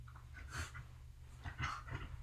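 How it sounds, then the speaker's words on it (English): A dog growls and pants in low rumbling bursts while rolling around on the ground, close by, with a steady low hum underneath. "She likes to roll around on the ground and make growling noises."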